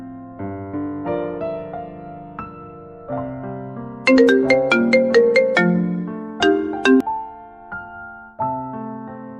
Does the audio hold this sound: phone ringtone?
yes